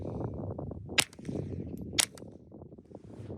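Two sharp cracks about a second apart from a suppressed Sig Sauer P322 pistol firing supersonic rounds into dirt outdoors, fairly distant and muffled, over constant rumbling background noise.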